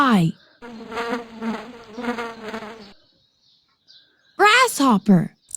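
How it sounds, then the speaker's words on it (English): A buzzing fly drones in pulsing, wavering bursts for a couple of seconds, fairly close and clear, with a spoken voice before and after. "Fly."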